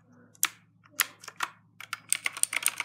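Computer keyboard keys are pressed in scattered bursts of clicks, sparse at first and then quicker and denser toward the end, close and fairly clear with no talking.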